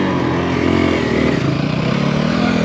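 A Kawasaki KLX140RF dirt bike engine runs steadily while riding at a sandy riding park, a close, loud buzzing drone with a slight rise in revs partway through and no talking.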